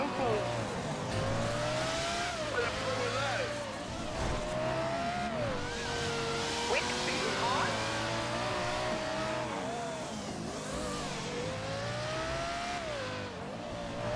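Cars rev and race in GTA 5 during an underground street race: a steady, loud engine drone rises and falls in pitch as the cars accelerate, with some tire noise and voices talking over it throughout.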